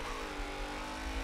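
A race car in Forza 7 revs hard and spins its tires, making a steady, loud, buzzing engine roar that holds through the whole moment without pause.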